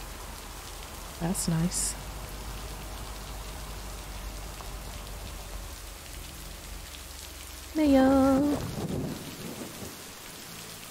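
Thunderstorm in a farming video game: steady rain under a long low rumble of thunder, with a couple of short musical game chimes, while a person speaks briefly.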